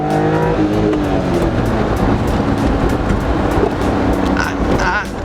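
World's smallest car accelerating at full throttle, a loud, continuous, buzzing engine note rising in pitch over a few seconds, heard close up from inside.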